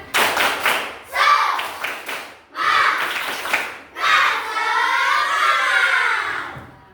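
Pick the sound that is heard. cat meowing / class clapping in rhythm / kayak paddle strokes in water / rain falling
class clapping in rhythm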